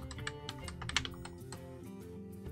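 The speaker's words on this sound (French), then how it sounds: "Vous entendez mon clavier." Rapid clicking of computer keys, a busy, uneven patter of keystrokes close by with a few sharper louder taps, running steadily throughout with no voices.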